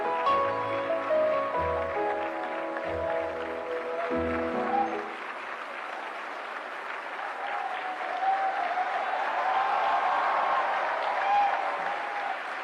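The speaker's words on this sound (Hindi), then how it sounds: "जोरदार तालियों से स्वागत करिए" An audience at the National Film Awards breaks into applause, a broad wash of clapping that rises after a short stretch of music and holds strong to the end.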